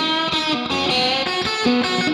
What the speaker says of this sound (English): let's have a listen to the spring reverb